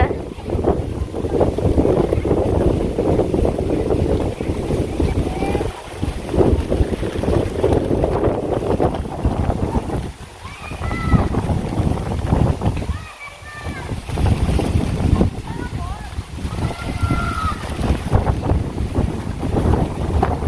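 Strong wind gusting ahead of rain under dark skies, a steady roaring rush with buffeting microphone noise that rises and dips; someone speaks throughout.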